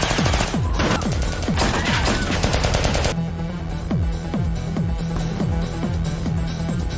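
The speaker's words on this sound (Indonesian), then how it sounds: "Dan baku tembak pun tak terhindarkan lagi." Machine gun fire rattles through a film gunfight, rapid bursts of loud close shots followed by a steadier run of evenly spaced reports under a low hum.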